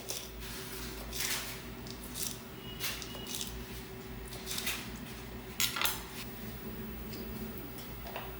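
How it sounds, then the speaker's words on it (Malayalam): A knife chopping fresh green beans on a board in a home kitchen, a run of light, irregular taps and clicks at close range, alone without talk. "അപ്പോൾ ഇനി നമുക്ക് പയർ അത് അരിയാം."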